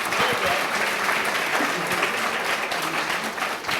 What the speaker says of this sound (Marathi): एकदा जोरदार टाळ्या जयंती ताईंसाठी.